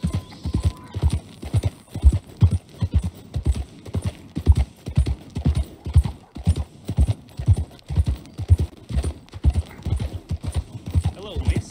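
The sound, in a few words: horse galloping in video game Red Dead Redemption 2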